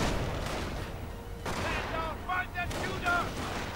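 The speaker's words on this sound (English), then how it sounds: "Panzer Grenadiers getting sniped" Sniper rifle shots and scattered gunfire from a war strategy video game, with distant battle noise and crackling volleys continuing throughout under a steady background roar.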